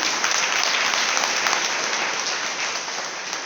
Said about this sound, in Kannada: ಅವ್ರಿಗಿರ್ತಕ್ಕಂಥ ಆತ್ಮವಿಶ್ವಾಸಕ್ಕೆ ಒಂದು ಜೋರ ಚಪ್ಪಾಳೆ ಕೊಡ್ರಿ